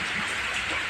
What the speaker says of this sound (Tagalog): Na abutan tayo ng ulan mga idol.